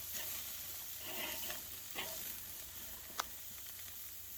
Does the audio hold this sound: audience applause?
no